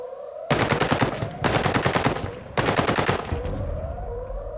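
Machine gun fire in Ghost Recon Breakpoint, three long, loud automatic bursts of rapid shots with brief gaps between them, over a droning background hum.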